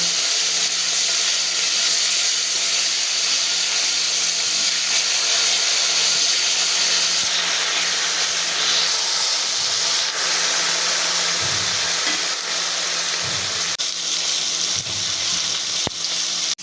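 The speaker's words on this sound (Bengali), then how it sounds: "এবার আমি মাছগুলোকে একে একে উল্টে দিয়ে অন্য পিঠটা ঠিক একইভাবে আমি ভেজে নেব।" Fish pieces fry in hot oil in a pan and are flipped one by one, producing a loud, unbroken close sizzle with a few soft knocks and scrapes from turning in the later seconds.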